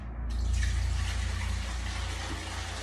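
Daiquiri mix is poured back into a daiquiri machine, giving a steady, continuous liquid rush and splash that stays loud and even for the few seconds it lasts.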